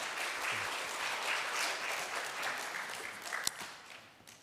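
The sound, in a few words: church congregation applauding in welcome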